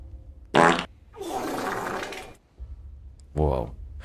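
Fart sound effects triggered during a stream of the video game The Last of Us Part I: three loud, short raspy blasts separated by a longer buzzy rumble, close and prominent with no speech.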